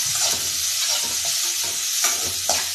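Seven or eight green chilies sautéing in hot oil until golden, a constant close sizzle broken by regular scraping strokes of a stirring spoon, with no voices.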